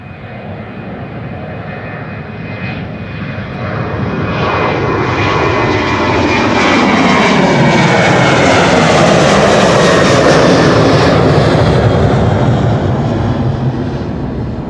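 A KLM airliner moving at Schiphol airport, a loud jet engine roar that swells over several seconds and holds as it passes close by, with a sweeping rising and falling tone.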